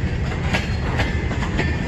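A CN freight train with double-stack cars rolls past at Emmett, Michigan, a close, steady rumble of wheels with rhythmic clicks over the rail joints.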